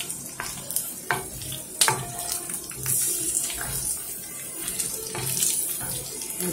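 Half a cup of water is poured into a pan of chicken gizzards cooking over medium heat, giving a steady sizzling hiss with splashy, bubbling bursts and a few clinks from stirring.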